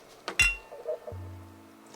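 Drink glasses clink together in a toast, one bright, sharp chime near the mic with a short ringing tail, followed by a soft thud and quiet room tone.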